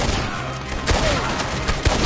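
Gunfire in the video game Red Dead Redemption 2: a few sharp shots crack out among a noisy battle background, spaced irregularly and fairly close.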